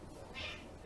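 A house cat meows once, close by and fairly quiet, a short rising cry against a faint background.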